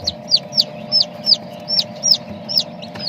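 Newly hatched Muscovy ducklings and chicks from a homemade incubator peep in a steady, regular series of high chirps, close by over a constant low mechanical hum.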